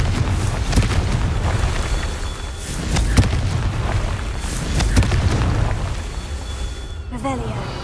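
Blasting-spell explosions in a fantasy video game, several booming bursts spread across the clip over a dense rumbling game soundtrack, with a voice casting the spell.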